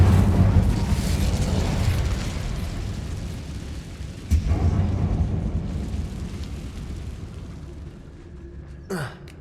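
A fiery Incendio spell cast in Hogwarts Legacy, heard as a loud whooshing burst of flame that swells, dips, flares again near the middle and trails into a short rising magical sweep at the end.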